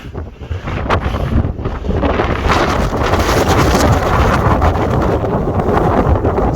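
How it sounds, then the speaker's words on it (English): Strong, steady wind roars across the microphone on a steep volcano slope at Montana Azufre on La Palma, loud and continuous with gusts building after the first couple of seconds, no voices. "although that wind is getting mighty strong."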